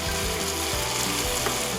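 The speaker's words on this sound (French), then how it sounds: "quand votre casserole commence à chanter, je ne sais pas si en vidéo vous pouvez vous en rendre compte, mais ça veut dire que l'eau s'est évaporée" Beef sizzling in a saucepan as the water boils off and only fat remains, a loud, close, continuous frying crackle with dense spitting, brief and without speech.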